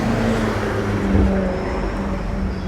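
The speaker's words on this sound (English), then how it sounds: "This is a BMW that's tearing up and down Rodeo Drive in a very noisy, environmentally unfriendly car." A noisy BMW car driving along Rodeo Drive, a loud steady engine rumble and road roar that holds throughout without pause.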